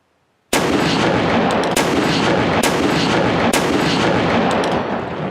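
Loud, booming cannon blasts go off in rapid succession, heavy continuous firing with several sharp reports standing out over a dense roar.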